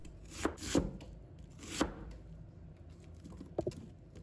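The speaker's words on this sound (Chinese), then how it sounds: "再准备半个洋葱，把它切成小块。" Half an onion chopped into small pieces with a knife on a board: a few close, crisp knocks spaced unevenly, with a quick double tap near the end and quiet gaps between, no talking.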